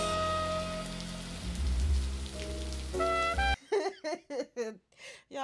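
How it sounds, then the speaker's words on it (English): Steady rain falls through a scene from the film Love Jones, a soft hiss beneath music for a few seconds before voices take over and speak in short bursts. "Stop by getting out of this rain."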